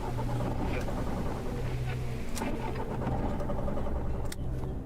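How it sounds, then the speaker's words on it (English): A video game car engine cranks and sputters repeatedly without catching, over a steady low rumble, with occasional sharp clicks. "I don't know why I'm trying so desperately to get this car to start."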